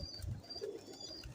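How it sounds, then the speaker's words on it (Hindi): A very old teddy pigeon gives soft, low cooing close by, a couple of brief murmuring coos under faint background noise. "बहुत पुराना कबूतर है ये"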